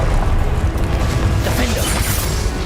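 A Confringo fire-blast spell in the Hogwarts Legacy video game bursts amid a dense, continuous wash of game combat noise, with booming crashes and rumbling impacts close and loud throughout.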